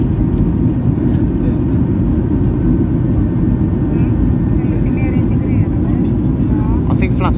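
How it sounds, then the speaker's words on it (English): Steady, loud cabin roar inside a Ryanair Boeing 737-800 with winglets on approach to Stansted with flaps extended, a continuous broadband engine and airflow drone with faint voices in the background. "All flaps being extended to something. So we're now making a left turn to aim for the runway at Stansted."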